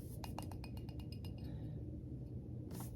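Black glass candlesticks from an estate sale clink together in a quick run of bright taps, about a dozen in the first second and a half, then a pause and one more chime near the end, close and clear with no talking.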